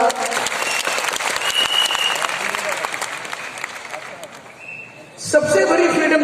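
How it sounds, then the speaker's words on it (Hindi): Loud audience applause at a direct selling seminar in India, a sustained wash of many hands clapping that dips briefly before a louder burst near the end, with some voices mixed in. "तालियां सब जो लोग हैं जोरदार।"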